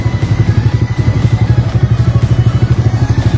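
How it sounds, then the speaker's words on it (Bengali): A motorcycle engine runs close by at low speed while the bike is turned around at a market crossroads, giving a steady rapid thumping beat throughout. "আমরা আমিনপুরের মোড়ের থেকে আমরা বাইক ঘুরিয়ে নেব।"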